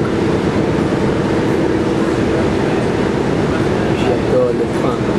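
A train runs steadily in a dense, continuous rumble with faint rhythmic clatter from the wheels on the rails, loud and close throughout.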